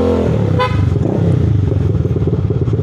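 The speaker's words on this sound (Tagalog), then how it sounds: "So pag ginawa ko to, yan, may idle rumble na siya." Motorcycle engine idling with a steady low rumble, close and loud, with a short bright horn-like tone near the start before the throbbing idle settles in on its own.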